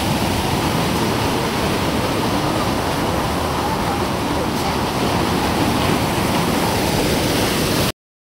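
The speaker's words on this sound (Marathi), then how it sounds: "जेव्हा पाऊस पडतो तेव्हा प्रत्येक वेगवेगळे झरे असतात उंबळ फुटतात त्यातनं हे पाणी येतं" Natural spring water after monsoon rain in Amboli ghat gushes in a loud, steady roar, a dense continuous rush close by with no pause throughout.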